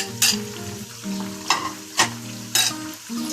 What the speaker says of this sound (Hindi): अब इसमें लहसुन अदरक का पेस्ट डाल देते हैं, ताकि ये भी अच्छे से फ्राई हो जाए।